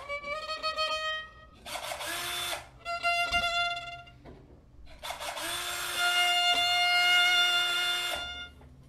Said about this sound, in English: Obviously, this is a power drill.